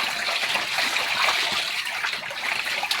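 Fish thrashing and splashing at the water surface during a feeding frenzy in a fish pond, a dense, continuous bright splatter and churning close to the microphone.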